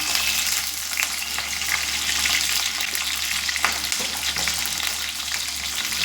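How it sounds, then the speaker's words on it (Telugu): Sliced onions frying in a pan for a capsicum paneer curry, a steady close sizzle with occasional stirring scrapes throughout, no voices. "ఆనియన్స్ కూడా ఇలా వేసుకుంటున్నానండి. విడివిడిగా ఇది బాగా ఫ్రై చేసుకుంటున్నానండి."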